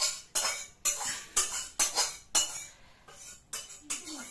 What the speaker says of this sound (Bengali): আমি ডালটা এর মধ্যে ঢেলে তারপরে এটা বসাচ্ছি